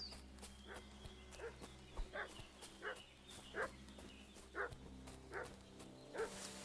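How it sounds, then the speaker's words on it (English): A dog in the video game Kingdom Come: Deliverance II barks again and again in a steady rhythm. The barks are moderately close and sound over faint ambient game noise. "What's that dog making such a fuss about?"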